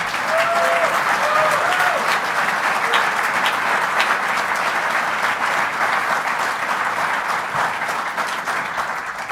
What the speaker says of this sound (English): Can we hear a very loud round of applause for those two gentlemen?